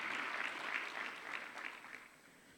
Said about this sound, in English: Please, a good round of applause for Black Enterprise